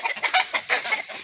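Several chickens cluck in short, uneven bursts close by on a homestead, the calls overlapping in a busy, chattering rhythm with no voices.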